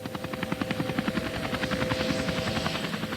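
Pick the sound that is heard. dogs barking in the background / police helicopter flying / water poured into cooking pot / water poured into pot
police helicopter flying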